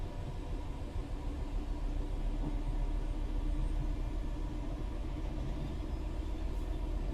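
Class 66 EWS diesel locomotive in Train Sim World 5 throttling up on a Southeastern High Speed line: a steady, broadband engine rumble with a low drone, moderately loud and unbroken, with no voices.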